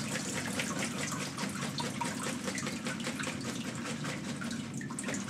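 Fresh spinach leaves being bathed in water, a continuous close splashing and sloshing like running water, with steady rippling texture and no voices.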